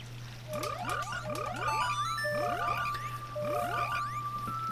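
Several frogs croak in quick, rising chirps over a steady low hum in a Zelda: Ocarina of Time randomizer game, a chorus of repeated calls coming in bursts.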